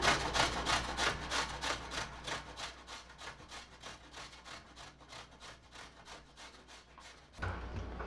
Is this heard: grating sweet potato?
yes